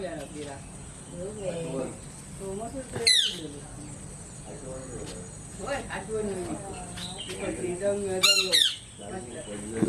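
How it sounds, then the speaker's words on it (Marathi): Parrots in a Malvan village garden give two sharp, shrill squawks a few seconds apart, heard under ongoing conversation and a steady background chirr of crickets. "या साईडला पोपट पण आहेत"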